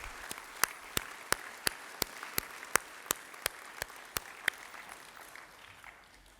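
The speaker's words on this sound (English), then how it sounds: "give our faculty and staff a big round of applause" Clapping for faculty and staff at a 2018 new student convocation comes as about fourteen sharp, evenly spaced claps that are faint and sound like one or a few people, not a full crowd.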